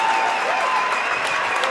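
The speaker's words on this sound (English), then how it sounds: "And a standing ovation from the crowd" A basketball arena crowd gives a standing ovation, dense, continuous clapping and cheering filling the whole moment with no pause.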